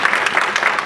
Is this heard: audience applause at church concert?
yes